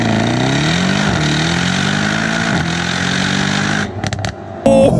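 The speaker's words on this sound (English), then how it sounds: "to do a launch mode in this car, it's actually really easy" A 2019 Mercedes E63s AMG in race mode launches hard from a standstill, its engine roaring loud and close as it pulls through rising revs with brief dips at gear changes, then cuts off abruptly into a few sharp knocks.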